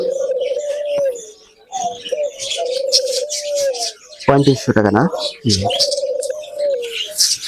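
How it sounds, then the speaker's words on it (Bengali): King pigeons at a bird farm cooing in repeated low, wavering calls, with a few higher chirps and flutters, heard close while people talk over and between them. "ওটা কিং কবুতর"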